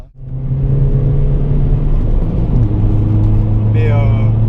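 An Audi A1 engine gives off a raspy, non-diesel drone and rumble from close inside the car, running steadily at idle with a slight rise in revs, and a voice briefly cuts in near the end.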